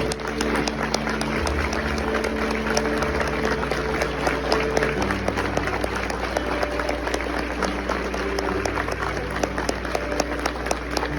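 An audience applauds steadily at a church testimony gathering about a man's miraculous recovery from a motorcycle accident, dense clapping filling the room continuously for about eleven seconds, with a voice occasionally speaking over it.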